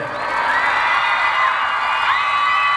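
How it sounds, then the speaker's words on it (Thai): Fans screaming and cheering at a fan meeting press event for Lee Jae-wook, a dense, loud sustained wash of high-pitched shrieks and whoops with no gaps. "ขอเสียงปรบมือกันด้วยครับเสียงกรี๊ดด้วย"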